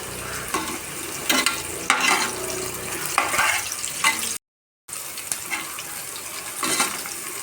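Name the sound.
garlic frying with onions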